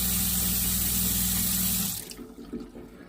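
Water runs steadily from the tap of a fold-up sink inside an off-road military truck camper, a loud broadband rush that drops off and turns to sparse splashes and trickles near the end.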